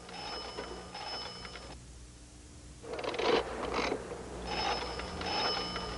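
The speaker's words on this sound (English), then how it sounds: "Crank the random generator." A mechanical random generator being cranked, giving a dense ratcheting whir in bursts separated by a short pause, moderately loud and close, with no voice.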